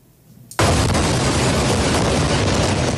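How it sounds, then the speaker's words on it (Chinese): An Israeli airstrike explodes near a hospital in Gaza. After a quiet stretch, a sudden, very loud blast breaks in and becomes a sustained, heavy roar that fills the rest of the moment. "轰然巨响，火光冲天"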